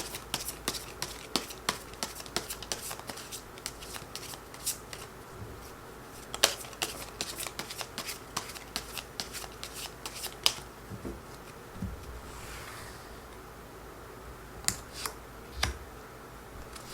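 Tarot cards being shuffled and handled, a dense run of crisp riffling clicks and flicks that thins into scattered snaps and slides, close and fairly quiet with no talking.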